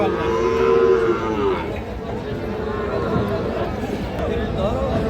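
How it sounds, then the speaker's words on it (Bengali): A Gir type cow lets out a long, loud, close moo at a cattle market, tapering off after about two seconds, with crowd chatter and voices carrying on underneath. "আমরা এই যে এখানে একটা গির টাইপের গরু দেখতেছি"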